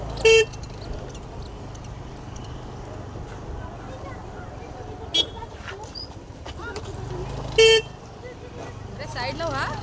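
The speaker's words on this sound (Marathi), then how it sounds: "हॉर्न ऐकू नाही येत काय" A car horn honks in three short, loud blasts near a crowded parking area in Malvan, with people talking and traffic rumbling in between.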